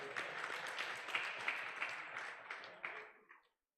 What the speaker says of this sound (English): Let's clap Professor Msando.